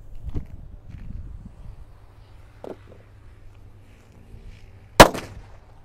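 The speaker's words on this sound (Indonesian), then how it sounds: "selanjutnya kita akan menyalakan mercon Sunflower ya" A Sunflower firecracker detonates with one sharp, loud bang after a few seconds of quiet crackling and faint ambient noise outdoors.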